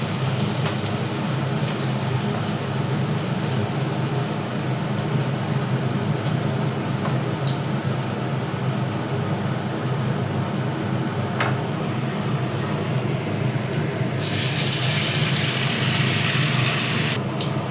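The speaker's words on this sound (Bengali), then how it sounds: "আমার সবগুলো দেখো একদম লাল লাল করে ভাজা হয়ে গেছে দেখো শুনতে পাচ্ছ এরকম আওয়াজ হচ্ছে" Stuffed pointed gourd fries in oil with a constant low bubbling sizzle close by, and a brighter burst of hissing near the end.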